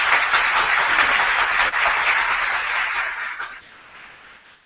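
A festival crowd in Hernandarias applauds clowns loudly and steadily, a dense wash of clapping that holds for several seconds before tapering off toward the end.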